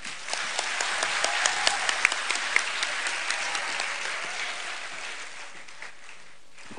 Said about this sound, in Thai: ขอเสียงปรบมือให้กับผู้เข้าชิงอีก4ท่านได้ไหมฮะ